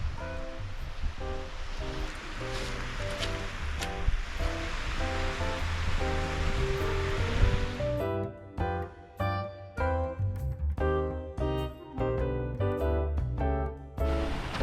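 Surf washing onto a seashore in Denmark makes a steady, broad rushing wash for about eight seconds. Tonal music then takes over while the surf continues underneath.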